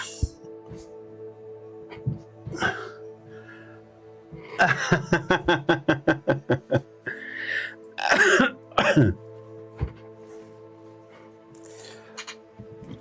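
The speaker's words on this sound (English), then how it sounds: "Just had a coughing fit." A close, loud coughing fit: scattered coughs and throat clearing, then a rapid burst of repeated hacking coughs, trailing into a few more coughs amid quiet pauses.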